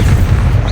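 A deep, booming blast from the Expulso spell in Hogwarts Legacy, very loud and heavy, filling a short moment with low rumbling power.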